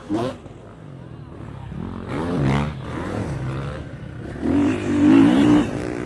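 Motorcycles arriving in a group in Tirana, Albania, their engines revving and roaring in loud swells close by, with voices talking over the din.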